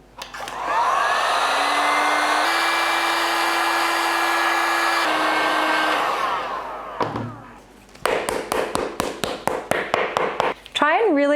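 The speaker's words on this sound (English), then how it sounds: "So I'm just gonna give them a quick blast with the heat gun." A heat gun blasts steadily for about six seconds on glued shoe heel tips in a workshop shoe-sole build, a loud continuous airy roar with a pitch shift midway, followed by a run of sharp taps and knocks.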